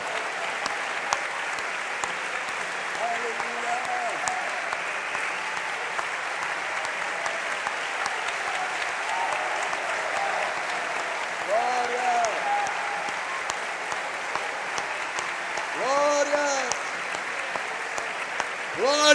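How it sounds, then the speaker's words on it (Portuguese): Sustained applause from a church congregation, steady and fairly distant, with faint voices and brief sung or shouted tones rising through it, swelling slightly near the end. "vamos dar um aplauso ao Senhor"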